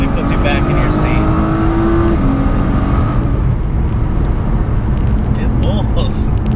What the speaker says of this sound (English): I believe we're doing a little pull right now, and it definitely puts you back in your seat